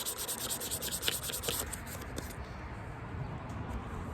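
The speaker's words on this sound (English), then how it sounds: "you're gonna get in with your sandpaper best you can in these cracks" Sandpaper rubbing over a corroded aluminum car panel while it is prepped for automotive painting, a steady close scratchy scuffing with a few sharper strokes early on, continuous throughout with no talking.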